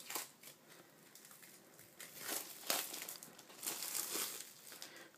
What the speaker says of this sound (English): So let me just take out the plastic.